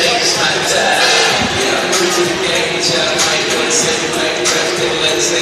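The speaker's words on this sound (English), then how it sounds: "Quite a big crowd here in Spring Hill." A large crowd at a Mineola Lady Jackets vs Tatum Eagles bi-district volleyball playoff game in Spring Hill keeps up a loud, continuous roar of cheering and chatter, with a voice talking over it.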